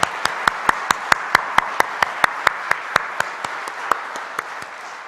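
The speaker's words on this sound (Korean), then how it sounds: "이 일을 행하신 하나님께 감사와 영광의 박수 올려드리겠습니다." Church congregation applause at a Wednesday night worship service: crisp, evenly spaced claps in a strong rhythmic beat from a group, steady for several seconds before softening at the end.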